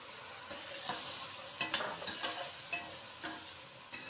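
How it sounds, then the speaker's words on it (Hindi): Water added to a spice masala frying in a pan for mash daal, giving a soft steady sizzle with light stirring scrapes and small clinks scattered through. "थोड़ा सा इसमें मैं पानी ऐड करूंगी"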